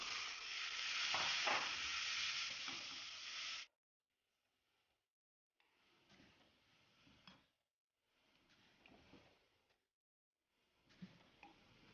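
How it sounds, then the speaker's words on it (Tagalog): Ground beef sizzles in a pan with sautéed onion and garlic. A loud burst of frying comes first, then quieter stretches of sizzling and stirring broken by short pauses. "Next na natin ilagay yung ating giniling na beef."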